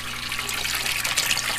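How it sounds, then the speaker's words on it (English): Water pump in a portable pump-in-a-box setup pushing water through a hose, giving a steady rushing, splashing flow with no pauses. Close and fairly loud, with no voices. "Alright, so now we've got the pump working."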